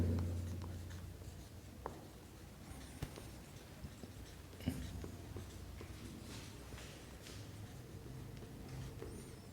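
Handwriting notes during an organic chemistry class, a faint continuous scratch of pen on paper with a few soft taps, close and quiet.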